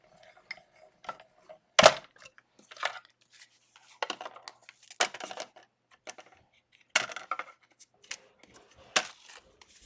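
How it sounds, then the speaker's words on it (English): A card folder feeds through a cut and emboss machine, giving a run of dry clicks, clacks and crunching bursts at irregular intervals, close up and fairly quiet. "The hinged part is going to go through the folder, is going to go through the cut and emboss machine first."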